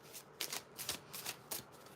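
A deck of cards is shuffled close by in soft, quick riffling bursts, several ruffles in a row over a low, quiet background.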